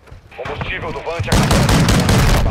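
Call of Duty gunfire erupts as a rapid, loud barrage of shots right after a stretch of in-game voice chatter and effects.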